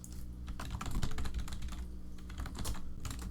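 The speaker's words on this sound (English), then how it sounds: "There's a lot of typing in this one. Clickety, clickety, clickety." Rapid typing on a computer keyboard, with dense, uneven clacking keystrokes continuing throughout, close and clear, with no speech.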